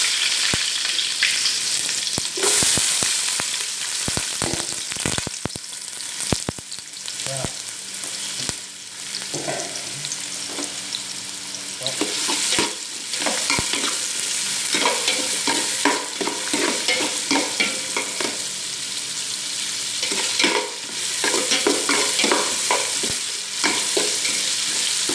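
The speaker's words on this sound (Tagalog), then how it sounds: "Igisa ko na yung bawang, sibuyas, at saka luya" Garlic, onion and ginger sautéing in a pan for pork blood stew, a continuous loud sizzle broken by frequent scraping and stirring clatter, with no talk.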